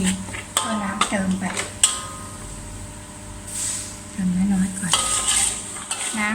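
A metal utensil clanks and scrapes repeatedly against a pan as curry with cockles and shrimp is stir-fried, in irregular bursts with brief pauses between.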